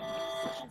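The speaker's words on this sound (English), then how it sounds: "that was my alarm clock" A brief, faint alarm clock tone rings steadily for under a second beneath the background audio of a gaming broadcast.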